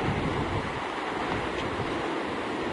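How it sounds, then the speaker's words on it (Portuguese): Water boiling and bubbling at a geyser in Yellowstone, heard outdoors as a continuous, faint, broadband rushing hiss with no distinct bursts and no talking. "escuta só o barulho da água fervendo"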